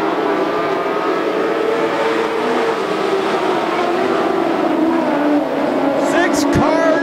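Dwarf race cars roaring around the Grays Harbor Raceway oval in a pack, a continuous loud engine drone that swells as cars pass close, with a commentator talking over the racket throughout.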